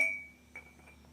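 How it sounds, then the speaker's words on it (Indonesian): A small stone drops into a drinking glass, making one clear clink followed by a few faint rattling taps as it settles, quiet and close. "kita coba masukkan batu ini ke dalam gelas seperti pulpen tadi"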